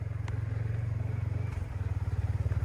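A motorbike idling on a foggy village morning in rural Nepal, a steady low throbbing engine putter that runs close and fairly quiet for the whole stretch, with a few faint clicks over it.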